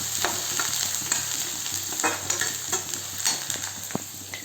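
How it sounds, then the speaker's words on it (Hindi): Onion, tomato and garlic masala frying in a pan for kofta curry, a steady close sizzle broken by repeated scraping stirs of a spoon against the pan, with no talking. "साथ में मैं मसाला भी बनाने लगी हूँ यहाँ पे।"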